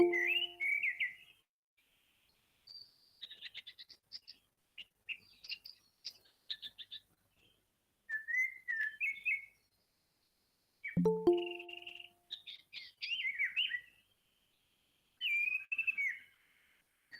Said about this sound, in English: Particularly when the bird is courting, it gives a lot of beautiful song.